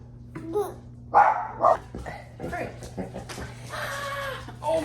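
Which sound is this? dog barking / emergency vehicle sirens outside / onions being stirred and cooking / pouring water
dog barking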